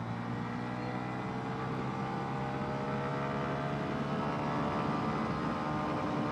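A Honda CB 125 Hornet motorcycle engine drones steadily and loudly while accelerating on the road, a continuous close engine note with wind rush filling the whole stretch.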